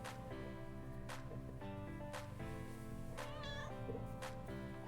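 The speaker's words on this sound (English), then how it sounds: "I have a cat." A cat meows repeatedly, with several short, fairly loud cries at uneven intervals over a steady, continuous tonal background.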